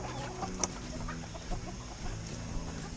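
Several chickens cluck and murmur together in a continuous low chatter, with an occasional sharper squawk rising above the flock.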